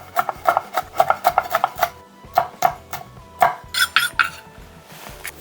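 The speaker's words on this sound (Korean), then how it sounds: "청양고추는 이렇게 십자 모양으로 이렇게 칼집 내서요 잘잘하게 다져줍니다." A kitchen knife finely mincing a Cheongyang chili pepper on a cutting board, rapid close rhythmic chops in quick bursts with short pauses, ending in a few lighter scraping strokes.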